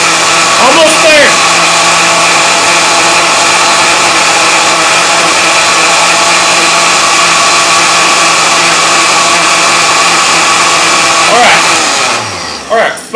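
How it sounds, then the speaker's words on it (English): A kitchen blender runs steadily while blending chocolate milk, a loud continuous whirring motor that holds for about twelve seconds before slowing and cutting off near the end. "then you just get the blender to go"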